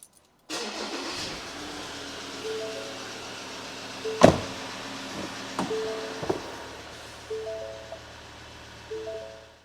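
A Ford Ranger 3.2 engine idles steadily during a coolant check after a thermostat replacement, a low continuous hum with a few clicks and knocks on top.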